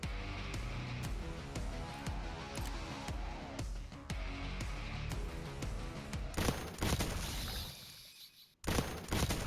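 A shotgun with a death effect in Black Ops 6, firing a rapid run of sharp blasts one after another, loud and close, before a few last heavy bursts.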